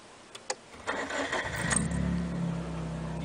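A manual-transmission car engine cranks and catches with the clutch held in, then settles into a steady idle. The sound is close and clear with no talking.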